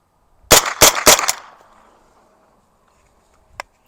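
A suppressed Zenith firearm fires four quick shots in a tight burst, close and loud, each with a short fading tail. A single sharp click follows after a pause.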